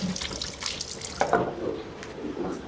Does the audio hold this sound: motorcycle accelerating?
no